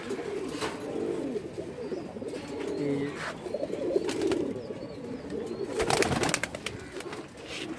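Male pigeons of a silver-necked fancy breed coo close by in repeated low, rolling phrases, with occasional sharp knocks and rustles among the birds.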